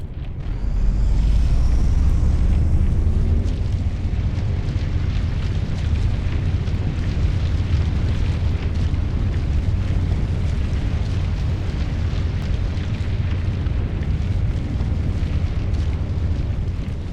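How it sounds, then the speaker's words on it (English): Loud, sustained low rumbling and crashing of a building caving in during a Mass Effect boss-level sequence, a dense roar that starts heavy and carries on steadily with scattered debris bursts. "whole place is caving in"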